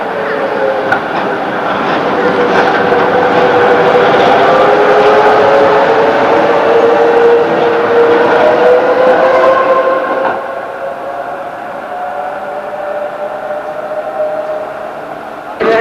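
A Stuttgart tram from 1986 rumbles loudly along its rails with a rising, squealing metallic whine that fades to a lower steady roll as it passes, heard close with no talking.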